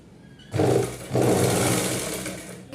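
Electric sewing machine stitching gathered pleats into a nauvari saree, two close whirring bursts: a short run, a brief pause, then a longer steady run that slowly eases off.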